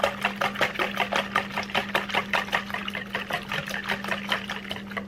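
A spoon stirs sweetened condensed coconut milk and sugar in a bowl for pumpkin pie, scraping in a quick, steady rhythm of soft strokes over a constant low hum.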